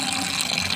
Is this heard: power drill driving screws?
no